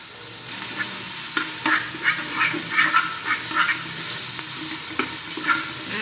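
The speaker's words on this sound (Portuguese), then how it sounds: "vou jogar a carne seca. E aí depois eu vou colocar 2 tomates. Cebola." Dried beef with tomatoes and onion frying in a pan, a steady close sizzle broken by repeated scraping stir strokes throughout, with no talking.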